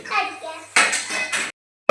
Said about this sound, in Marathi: भांडी कुंडी काढायला आली